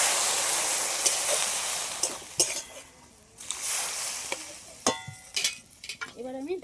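Water poured into a hot pan of helencha greens and potatoes, loud steady hiss and sizzle with scattered clatter and stirring knocks, briefly fading before sharp bursts of steam and bubbling.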